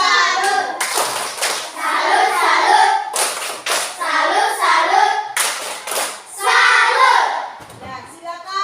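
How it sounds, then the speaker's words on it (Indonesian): A primary school class claps out a rhythmic clap chant in bursts, children's voices chanting along with the patterned hand claps, close and lively with short pauses between phrases. "Ayo, tepuk salut buat kelompok 2."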